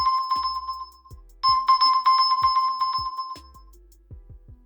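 A OnePlus Watch's find-my-phone alert sets a phone ringing with a loud, repeating electronic chime in short bursts, alongside a few soft low taps.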